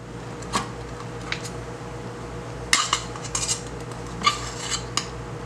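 A spoon stirs flour and baking powder together in a bowl for fish batter, making light scraping with a few sharp clinks against the bowl's side. No voices.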